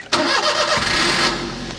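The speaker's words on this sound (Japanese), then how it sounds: "はい、それではエンジンかけます。" A kei camper van's engine cranks and catches near the microphone, settling into a steady idle; the vehicle is a DIY-converted light car fitted with solar panels and a lithium house battery.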